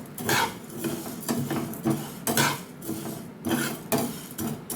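Dal frying in a pan for a mixed veg dal, with repeated metallic scraping and clattering of a spoon against the pan in uneven bursts, close and moderately loud, no talk.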